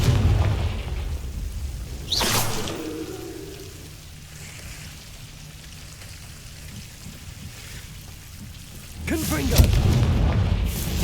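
Confringo fire-spell blasts in Hogwarts Legacy: two loud, booming explosions several seconds apart. A low rumbling lull sits between them.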